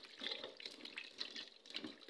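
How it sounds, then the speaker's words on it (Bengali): Running tap water splashing over freshly cut eggplants being washed in a kitchen, a close, steady trickle broken by uneven splashes, with no voices. "এই যে দেখো, বেগুনগুলো আমি ভালো করে ধুয়ে নেবো।"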